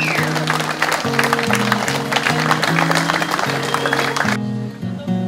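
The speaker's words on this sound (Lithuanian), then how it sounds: "O dabar jūsų gausus aplodismentai." Festival crowd applauding, a dense steady wash of clapping over rhythmic background music with a steady beat, the clapping dropping off abruptly near the end while the music carries on.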